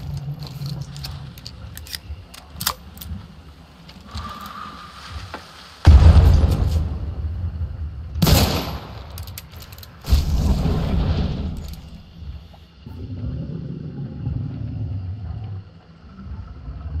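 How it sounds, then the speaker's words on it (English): A bomb detonates in a video game, a loud deep boom around the middle followed by a second burst and rumbling debris, set among quieter game sounds with no talking. "that bomb's probably going to kill me off"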